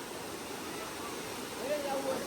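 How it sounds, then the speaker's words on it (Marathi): Constant roar of rushing water at Bhushi Dam in Lonavala, steady and broadband, with a faint voice briefly audible toward the end. "काय आवाज आहे पाण्याचा"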